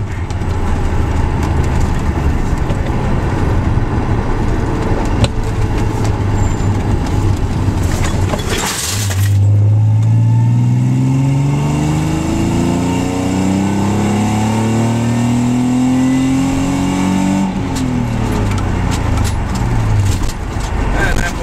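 A car engine climbs in pitch through repeated gear pulls, each rising whine dropping off briefly before climbing again, heard close from inside the cabin over road rumble.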